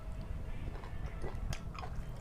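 Someone chews crunchy raw beef in Thai soi ju style, with soft wet bites and a few crisp crunches close to the mic over a steady background hum.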